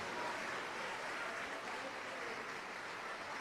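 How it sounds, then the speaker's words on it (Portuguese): A church congregation applauds in a soft, even, steady wash of clapping that sounds distant and faint. "Vamos aplaudir a verdadeira palavra de Deus."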